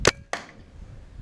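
CO2 paintball gun fired twice outdoors: two sharp, close pops about a third of a second apart, the second with a short airy hiss trailing off, no voices.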